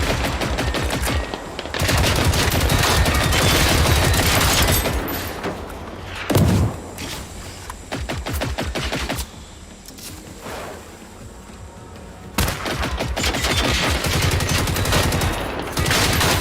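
Automatic and single gunfire in the video game Generation Zero, loud dense bursts of rapid shots lasting several seconds, pausing briefly mid-clip, then resuming near the end.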